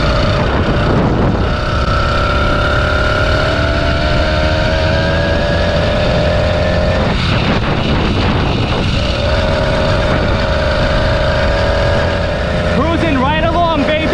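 A 20+ year old HPI Nitro RS4 nitro RC car drives along, its small engine buzzing steadily with pitch changes as it revs and cruises, loud and close, with someone talking over it.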